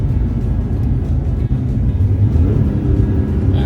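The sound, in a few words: Porsche 911 engine revving during a throttle-match downshift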